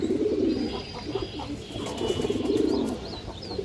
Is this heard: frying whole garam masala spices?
no